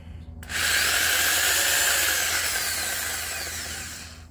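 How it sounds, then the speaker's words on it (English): A Milwaukee right-angle power drill motor starts abruptly and whines steadily at high speed, loud and close, easing slightly toward the end. "we use our Milwaukee 90 degree"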